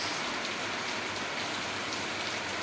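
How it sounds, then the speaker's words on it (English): Steady rain falls in Shillong, a dense even hiss of drops hitting surfaces, continuous and fairly close, with no voices. "Hear the rain."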